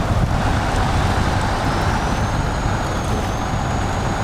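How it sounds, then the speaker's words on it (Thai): Chinese 12-wheel truck backing up in the SnowRunner off-road game, a dense rumbling engine with a faint high steady tone above it, loud and continuous, with no speech. "แต่เสียงถอยอย่างดีอ่ะ"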